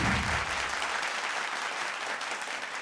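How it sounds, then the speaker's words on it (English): Audience applause for the champions of a finance quiz final, a dense steady wash of clapping from a crowd that fills the clip, loud and close with no talk over it. "I think they deserve a better round of applause"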